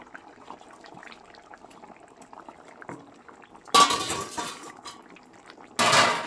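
Fried prawns dropped into a simmering mustard-poppy seed gravy, a quiet bubbling pan broken by two loud bursts of splashing, clattering sizzle as the pieces go in, with light utensil clinks between.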